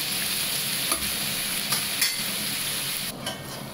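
Green chillies cooking in a pan give a steady, close sizzle and frying hiss, with a few brief stirring scrapes and knocks along the way.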